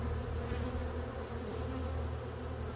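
Dense, steady buzzing of many honeybees swarming close around an open hive during a late-August inspection, a continuous loud hum with no breaks and no voices.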